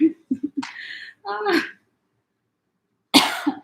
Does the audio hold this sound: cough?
yes